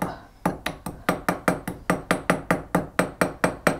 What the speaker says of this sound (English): I'm just going to texture that, hammer it, and texture out